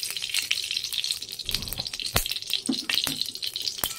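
Ghee sizzling in a hot pan as chillies and curry leaves go in, a close crackling fry with sharp pops and spatters.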